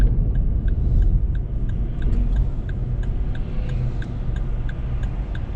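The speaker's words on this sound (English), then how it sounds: "hopefully the road isn't too loud, the car isn't too loud, even though it's only a little Corsa" Road and engine noise inside a small Vauxhall Corsa, with a steady low rumble and tyre roar and a faint regular ticking like an indicator, no speech.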